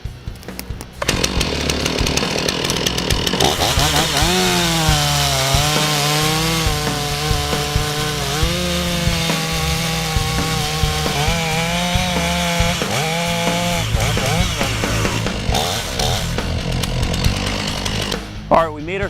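A chainsaw cutting into a tree runs loud and steady, close by, with engine pitch wavering as the cut progresses over about seventeen seconds before the saw drops off near the end.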